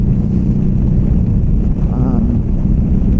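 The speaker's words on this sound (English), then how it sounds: "It's a little windy, no problem." Steady low wind rumble buffeting the microphone throughout, with engine-like drone underneath while moving; no clear talking.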